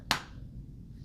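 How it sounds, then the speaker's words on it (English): A single sharp hand clap during a neurological exam, close and crisp, followed by quiet room tone. "Can you clap?"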